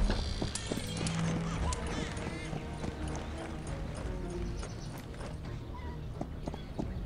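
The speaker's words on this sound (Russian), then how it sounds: "Так, лошади скачут." Horse hooves clip-clop in rapid rhythm in the Cossacks 3 strategy game, mixed with busy battle ambience throughout and occasional whinnies, under a steady loud bed of game sound.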